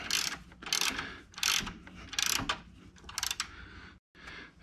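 A ratchet wrench cranks a belt tensioner bolt on a Can-Am Spyder RT, giving several quick bursts of close, crisp clicking with short pauses between strokes and a brief silence near the end.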